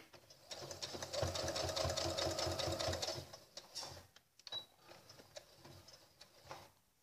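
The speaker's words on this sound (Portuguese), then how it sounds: "Costurando por cima da anterior." A sewing machine runs in a fast, rapid patter of stitching through a thermal lunch bag, close and clear for a few seconds, then stops and restarts in shorter bursts amid handling noises.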